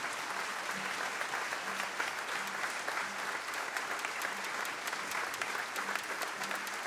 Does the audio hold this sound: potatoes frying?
no